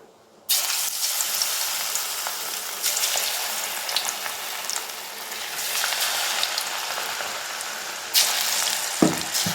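Cauliflower pakoda sizzling steadily in hot oil over a medium flame, a dense continuous crackle that starts abruptly as the florets go in and swells briefly near the end.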